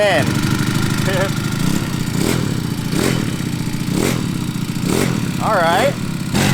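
A cheap Amazon pocket bike fitted with a swapped-in racing engine runs close by with a loud, steady buzzing drone, its pitch rising and falling in short throttle blips, while people talk over it.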